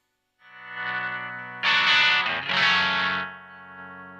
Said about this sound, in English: Having that volume control moved down just that little bit is giving me that really nice washed out sound.